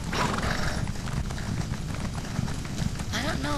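A horse gallops in the Elder Scrolls Online video game, its quick clip-clop hoofbeats steady and close, mixed with game ambience and ending in a brief whinny.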